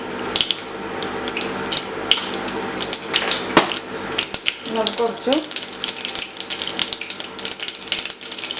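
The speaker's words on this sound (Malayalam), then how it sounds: "കടുക് നന്നായി പൊട്ടട്ടെ." Mustard seeds pop and crackle in hot coconut oil, a dense run of close, sharp spattering clicks with a brief burst midway, while someone speaks briefly over it.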